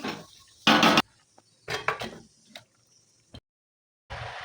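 Mustard stem curry, cooked down thick, being served out of a pan, a few close metallic scrapes and clinks of a spoon against metal, separated by quiet gaps.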